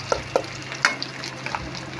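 Onions land in a hot pan, setting off a close, steady sizzle punctuated by a few sharp clicks and knocks of the utensil against the pan.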